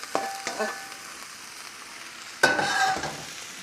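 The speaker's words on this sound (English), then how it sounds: "I'm just gonna add all this right into the cast iron skillet with the potatoes" Bacon and potatoes fry together in a cast iron skillet, giving a steady low sizzle with two sharp bursts of hissing and clatter as ingredients hit the hot pan or get stirred, one early and a louder one near the end.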